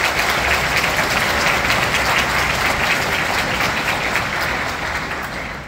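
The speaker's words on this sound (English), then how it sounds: "we're going to give everyone one more round of applause" A band camp concert audience gives a loud, sustained round of applause, many hands clapping steadily and close, tapering off slightly toward the end.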